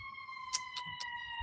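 A faint, steady siren tone holds in the distance, with a few brief soft knocks and taps over it.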